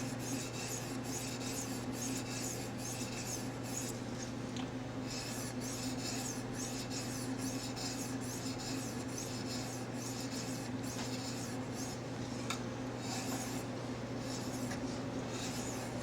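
A blade is honed on a 1000 grit sharpening stone in steady back-and-forth rasping strokes, a continuous close scraping texture over a low hum, with no talking.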